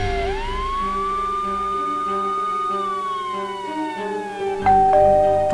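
Sirens in the video game Nancy Drew: Stay Tuned for Danger wail with a rising and falling electronic tone, sustained and fairly loud, ending in a sudden louder chime near the close.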